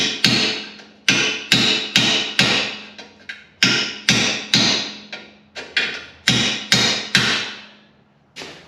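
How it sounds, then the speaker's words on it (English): An adjustable wrench hammers metal straight on a Plymouth Prowler front end, about a dozen sharp ringing metallic strikes in an uneven rhythm, close and loud with short decays between blows. "Adjustable wrenches work really good for straightening metal out."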